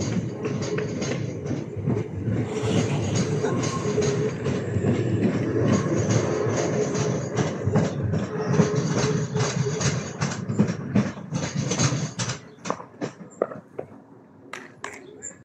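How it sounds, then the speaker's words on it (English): A South East High Speed Class 395 electric train rumbling and clattering past nearby as it approaches Dover Priory station, wheels clicking over the rails, with a voice speaking over it as the noise fades out. "Approaching Dover Priory now is the South East High Speed Class 395 service"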